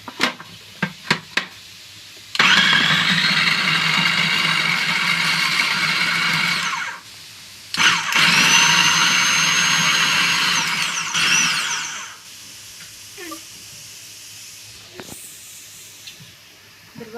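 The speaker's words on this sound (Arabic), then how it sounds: "دلوقتي انا هحط الطماطم اهي زي ما انتم شايفين برضو في الكبه" An electric food chopper grinds tomatoes in two long, loud whirring bursts of about five seconds each, separated by a short pause, with a few clicks and knocks before and after.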